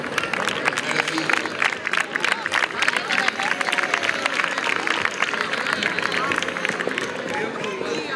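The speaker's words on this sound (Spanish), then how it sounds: "Vamos a premiarlo con un fuerte aplauso" Outdoor audience at a doma vaquera horse exhibition during a motorcycle rally claps and cheers in a busy, sustained burst of applause for the horse, with crowd chatter mixed in throughout.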